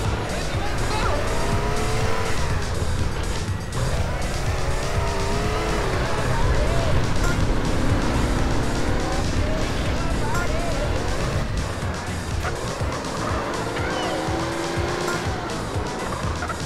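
Cars race in GTA San Andreas: engines roar continuously, and tires squeal and skid through the turns in a loud, unbroken mix.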